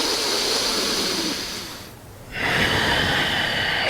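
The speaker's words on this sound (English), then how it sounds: "Just take 3 breaths here." Slow, deep breathing during a yoga session in mountain pose, a long airy inhale-like rush that fades and pauses before another breath swells up again, close and soft.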